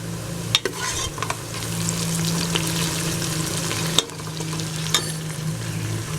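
Oil sizzles steadily in a pan as spices fry for beef trotters, with a few sharp clinks and scrapes of a spoon stirring at intervals.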